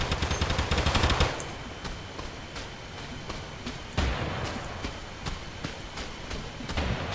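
Rapid automatic Mac 10 submachine gun fire in the video game TABG, a loud dense burst at first, then steady repeated short bursts with a regular stuttering rhythm throughout.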